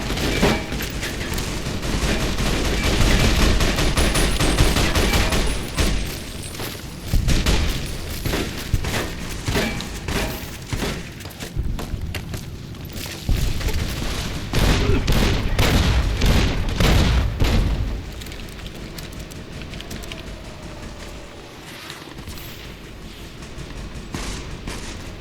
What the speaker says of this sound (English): Dropping those bombs.